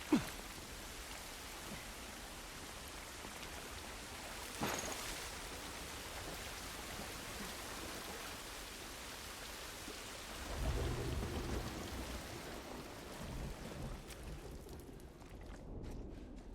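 Rain and thunder in The Last of Us, set in Boston ruins: a quiet, continuous hiss of rainfall with a soft crack near the start and a low rolling rumble of thunder partway through.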